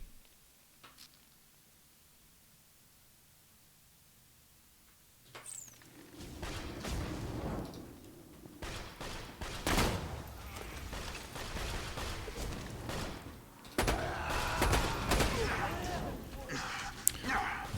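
Grenade blasts in Borderlands 2 on an open street, several sharp booms and crackling bursts following a quiet start, moderately loud and mixed with other game noise and a voice talking.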